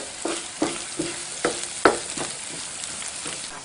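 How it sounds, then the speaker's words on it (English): Ginger sizzles and fries in hot ghee with cumin seeds and asafoetida, with a soft crackle and several sharp clinks of a utensil stirring the pan. "now you get a beautiful aroma of ghee and asafoetida and cumin seeds and ginger frying here"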